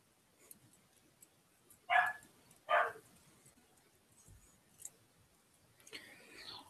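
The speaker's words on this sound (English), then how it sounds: "Oh, dogs are fun." Two sharp dog barks ring out close together, fairly loud against a quiet room, followed by faint knocks and a brief higher sound near the end.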